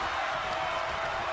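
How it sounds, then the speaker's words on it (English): A deafening arena crowd cheers in a WWE 2K23 tag-team wrestling match, a continuous roar with no break. "The sound of this crowd is deafening, and he's asking for more"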